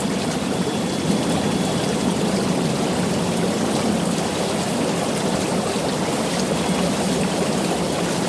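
Steady, dense churning of bubbling water from a Lay Z Spa hot tub's bubble jets, a continuous rushing hiss with no breaks, close and fairly loud.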